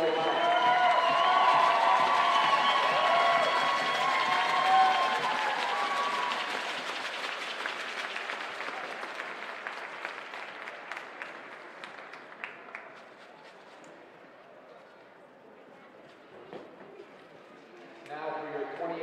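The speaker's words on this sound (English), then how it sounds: "Let's have a big round of applause for the Class 2A runner-up Leo Lions." Applause and cheering from a crowd at a Class 2A state high school hockey tournament, loud and sustained at first, then thinning to scattered clapping before a brief swell at the end, with an announcer's voice over the arena.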